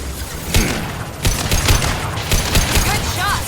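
Gunfire in Mass Effect 2 comes as a few sharp bursts and shots spaced across a few seconds, loud and close over a murky combat background.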